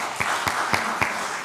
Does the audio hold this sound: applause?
yes